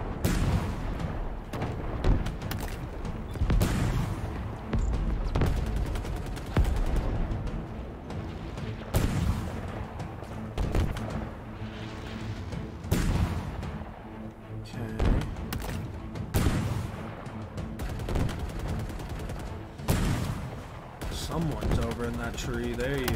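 Rapid gunfire and heavy booming shots from the Halo campaign on Legendary difficulty, with dense, repeated bursts throughout and a player talking over the action.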